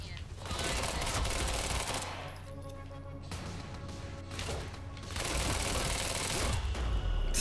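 Pistol gunfire in the video game Quantum Break comes as dense, rapid shots with crashing impacts that fill the clip with loud, continuous noise, and voices talk over it.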